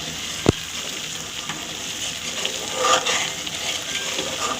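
Cream skimmed from pure cow's milk sizzles gently in a pan as ghee separates out. The crackle is a soft, steady fizz, with one sharp tick near the start and a slight swell partway through. No voices.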